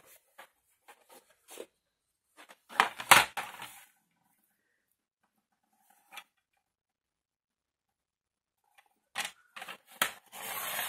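Paper being trimmed by a millimetre or two for a Winnie the Pooh scrapbook mini album, heard as a few short, crisp snips in small clusters with quiet gaps between them, close up and with no talking.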